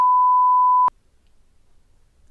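A single steady censor beep, a pure tone lasting just under a second, cuts off abruptly and leaves near silence.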